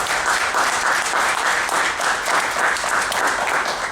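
Audience at a political gathering in Danbury claps in sustained, dense applause, a loud and even wash of many hands filling the space with no voices over it.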